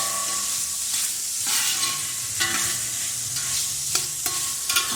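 Small slices of andouille sausage sizzle in a pan, a close, continuous frying hiss broken by repeated scraping and stirring sounds.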